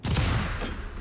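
A single M1903 sniper rifle shot in the video game Sniper Elite 5, a loud, close boom with a rolling tail that fades over about a second.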